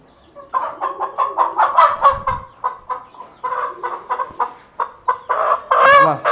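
Fancy chickens kept on a rooftop cluck in quick bursts close by, with a short crow-like squawk near the end and no voices.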